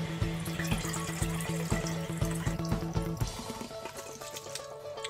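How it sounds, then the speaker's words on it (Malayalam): Excess cooking water from beef for a Malabar biryani being poured into a vessel, heard as a close, steady trickle and splash over faint rhythmic clinks, which stops partway through. "ഇനി നമുക്ക് ഇതിൽ കൂടുതലായിട്ടുള്ള വെള്ളം അരി അളന്ന് നോക്കിയ പാത്രത്തിലേക്ക് മാറ്റാം"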